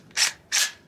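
Two quick bursts of a Taccom short-stroke rifle bolt on an FM-9 lower, a sharp metallic clack as it slides and locks back, close and loud with no voices.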